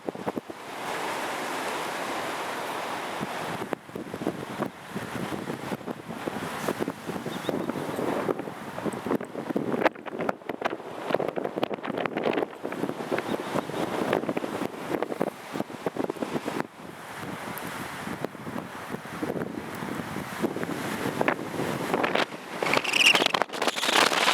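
Strong wind blowing across the summit of Szczytnik mountain in early March, roaring and buffeting the microphone in continuous gusts with brief lulls, loud and close, with no talk.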